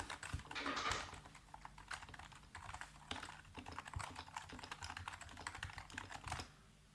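Steady, fairly quiet typing on a Leopold mechanical keyboard, with a dense run of quick key clicks and clacks that continues at an even pace and then stops near the end.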